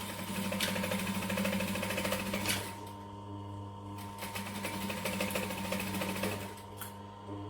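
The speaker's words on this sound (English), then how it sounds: "Alright, machine on, back stitch." Close up, a sewing machine back stitches fabric with a steady mechanical whir and rapid needle chatter, easing slightly after a few seconds and continuing alone.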